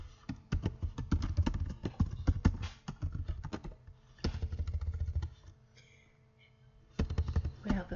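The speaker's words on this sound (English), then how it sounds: "So I'm just going to go over and type it in." Typing on a computer keyboard produces bursts of rapid, close clicking separated by short pauses, with a quieter lull near the end.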